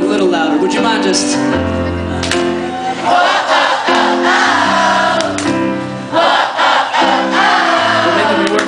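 Large concert crowd at a pop-rock show in Tulsa, Oklahoma singing along loudly with the band, a dense roar of many voices over steady music, continuous and close.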